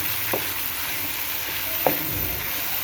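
Chicken mince sizzling steadily in a hot pan, with a couple of soft scraping stirs of a spoon cutting through the continuous frying hiss, close and alone.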